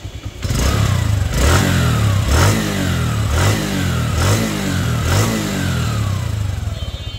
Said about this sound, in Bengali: তো বাইকটা স্টার্ট করবো, দেখুন সোয়াদেল স্টার্ট